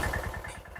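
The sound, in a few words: tractor engine running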